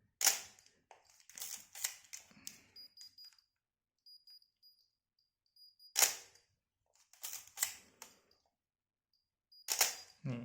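Several sharp mechanical film camera shutter clicks, including a roughly ten-second bulb exposure, in two separated bursts with silent gaps between them, close and fairly loud.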